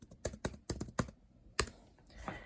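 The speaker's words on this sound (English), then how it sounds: "taking a look at the keyboard as I put in my password" Password typed on the basic chiclet keyboard of a 2021 Samsung Galaxy Chromebook Go, a short-throw, slightly rattly board: a quick run of sharp, close key clicks, a pause, then one more tap and a softer trailing keystroke.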